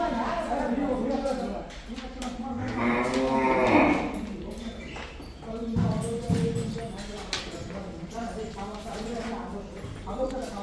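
Red Chittagong cattle low and moo on a native-breed model farm at a Savar livestock research institute, one drawn-out call rising mid-clip with other animal calls around it, all under steady talk.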